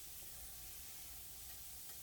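Onions and vegetables sizzling in a pan while stir frying for fried rice, a constant close, crackling hiss with no voices over it.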